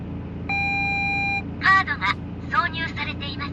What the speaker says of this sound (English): I think it's like the toll transponder, right?